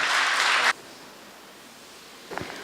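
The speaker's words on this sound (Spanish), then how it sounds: "Un fuerte aplauso entonces para la embajadora de Costa Rica" Audience applause at a talk on human rights and women diplomats, a loud burst of broadband clapping that cuts off abruptly after under a second, followed by quiet room tone and a brief faint thump near the end.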